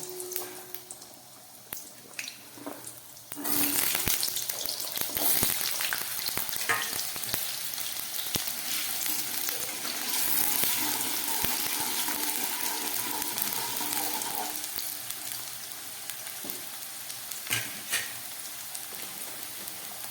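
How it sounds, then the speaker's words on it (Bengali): Loud, continuous sizzling of potatoes frying in hot oil, with occasional scraping stirs and crackles over the steady hiss. "গরম তেলের মধ্যে আমি একদম প্রথমে আলুগুলোকে ভেজে নিচ্ছি"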